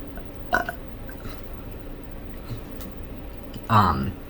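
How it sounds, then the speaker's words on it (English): A couple of short burps break through quiet background noise, the second one louder and closer, with a faint voice nearby. "I keep burping, sorry."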